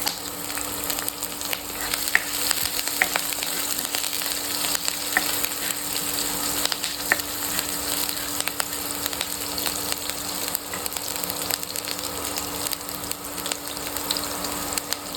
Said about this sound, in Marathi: तूप गरम झाल्यावर आपण त्यात आता या हिरव्या मिरच्या घालणार आहोत